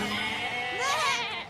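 Goats bleat, one wavering cry rising near the end over a steady hum of background ambience, fairly close and clear.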